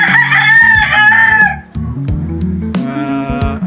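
A fighting rooster crows loudly nearby, one long strained call, followed by clucking and scattered farmyard noises.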